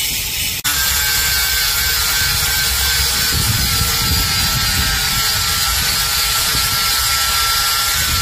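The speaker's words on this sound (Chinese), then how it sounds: "另一边磨损的引导轮也同样是先进行堆焊，然后再用角磨机把焊把打磨平整。" An angle grinder smooths down weld build-up on a worn guide wheel during a car restoration, giving a continuous loud, harsh whine and scraping grind after a brief sharp tick at the start, with no talk.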